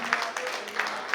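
Applause from a crowd at a school last bell ceremony, a short stretch of steady clapping with a few sharper claps standing out.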